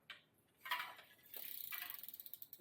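Bicycle cranks back-pedaled, the freewheel ratchet giving a quiet rapid run of ticking clicks that speeds up then slows, heard up close with no talking.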